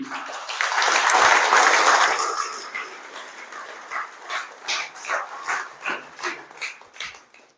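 An audience at a political rally claps, a dense wash of applause that swells and then fades into scattered, rhythmic claps.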